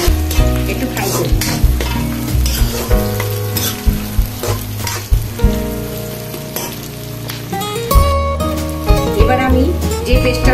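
Green chillies fry in a pan, loud crackling sizzle with rhythmic stirring scrapes, and background music playing throughout.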